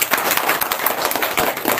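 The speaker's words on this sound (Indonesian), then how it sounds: "Tepuk tangan." An audience at an Indonesian discussion forum applauds, a dense, steady patter of many hands clapping close by.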